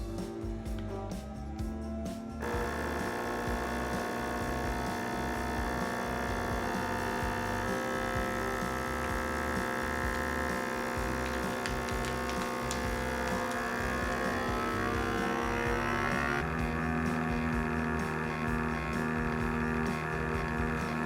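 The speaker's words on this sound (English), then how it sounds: "Now this is gonna vacuum and seal the bag with the push of one button." A vacuum sealer's pump drones steadily and close as it draws air from a bag of Chile Colorado Tex-Mex sausage and seals it. The tone shifts slightly a few seconds in and again near the end.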